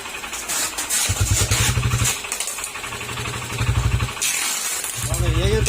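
Honda Click 125 scooter engine running with its exhaust covered, coming in repeated bursts of a low pulsing drone that cut in and out, with someone talking over it.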